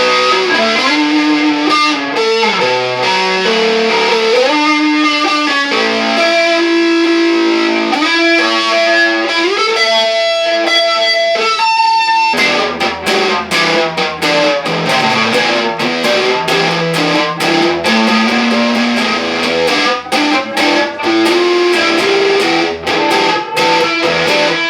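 Distorted electric guitar through a Boss BF-2 flanger pedal plays continuous riffs and sustained bends with a swooshing, sweeping tone, loud throughout, shifting to faster chugging passages in the second half.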